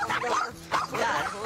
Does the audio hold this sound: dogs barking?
yes